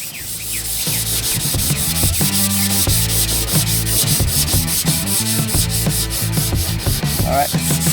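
Steady, continuous rubbing of sandpaper across satin paint on a 1963 Cadillac body, close and loud, with a rhythmic back-and-forth scrape throughout.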